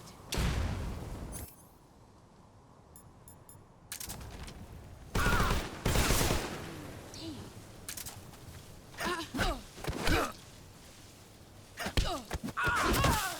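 In the video game Metal Gear Solid Delta: Snake Eater, a grenade blast and bursts of gunfire crack and thud in loud, irregular clusters, separated by quieter stretches with voices and breathing.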